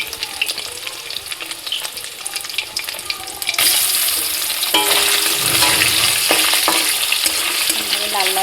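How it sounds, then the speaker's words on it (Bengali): Soybean chunks fry in hot oil with a steady, close sizzle that grows louder and denser partway through, with occasional stirring scrapes. "এবার এই সয়াবিনগুলোকে ভেজে নিতে হবে।"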